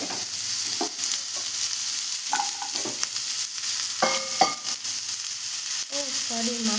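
Papaya fries in tempered oil in a pan, a close steady sizzle broken by stirring scrapes and a few sharp metallic clinks of a spatula.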